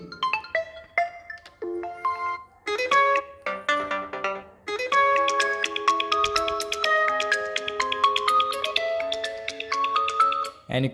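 An Oppo Reno 3 phone's single bottom speaker plays a bright, tinny melody of ringtone-like tones, thin and a bit harsh, continuing steadily with short pauses early on.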